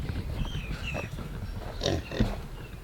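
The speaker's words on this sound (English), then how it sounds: "Let's get these pigs out of here." Pigs grunting and squealing nearby, a few short snorts and higher squeals over a rumbling, busy background.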